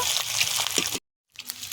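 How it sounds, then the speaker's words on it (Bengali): Steady crackling sizzle of eggs frying in hot oil, loud and close, cutting out abruptly into silence before resuming more softly with a faint hum. "একটু লাল লাল করে ভেজে নেব।"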